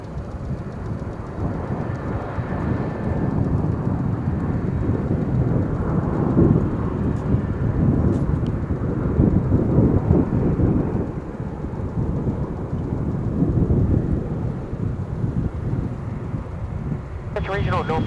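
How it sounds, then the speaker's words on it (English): An American Airlines jet arriving from Frankfurt to land on runway 18 left at DFW International Airport, a loud, sustained low roar that swells and rumbles throughout, with some wind buffeting and a voice speaking over it. "It's American Airlines Flight 71 coming in from Frankfurt."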